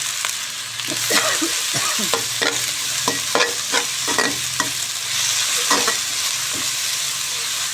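Water spinach (morning glory) stir-fried in a hot pan, a steady sizzle with repeated scraping clacks of a spatula against metal at an uneven rhythm, close and alone without voices.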